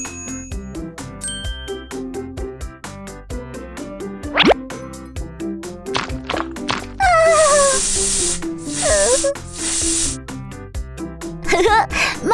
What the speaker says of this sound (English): Let's use mouth spray to clear the bad breath